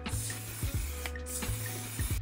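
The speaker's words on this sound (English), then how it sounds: "But I'm just gonna spray all over my face" Makeup setting spray mists onto a face in short hissing bursts, two or three close pumps with brief gaps between them.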